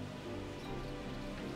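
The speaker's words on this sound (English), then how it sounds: "We heard this waterfall." A waterfall in the Shenmue II video game gives off a steady, dense rushing wash of water that runs unbroken and fairly loud from start to finish, with no talking.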